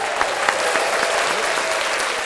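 A crowd applauds and cheers at a lively party celebration, with dense, steady clapping and scattered whoops sustained throughout at close range.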